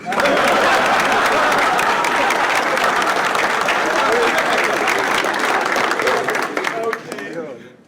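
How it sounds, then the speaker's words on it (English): A crowd applauds and cheers for Rondé, a Syracuse football player, loud dense clapping filling the space before thinning out near the end, with voices mixed in. "We gonna give it up for Rondé. Clap it up for him."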